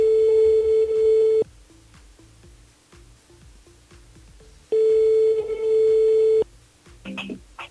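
A telephone rings down the line during a French-language radio call-in show: two long, steady tones separated by a quiet gap with faint line noise, then a few brief clicks at the end.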